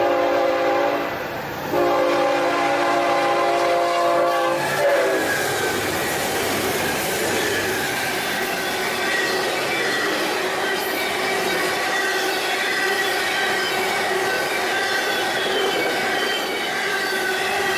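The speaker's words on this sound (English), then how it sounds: "I like to get out by the tracks and watch trains go by like this" A train rolls past on nearby tracks in summer, a steady loud rumble of wheels and cars with a horn-like tone early on, continuing without letup for the whole stretch.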